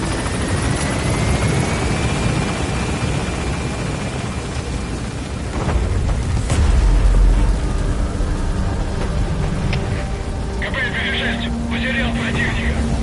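Helicopter gaining altitude in Metal Gear Solid V: The Phantom Pain, a loud, steady rotor roar and engine drone filling the whole stretch, with radio voices talking over it and faint beeping near the end.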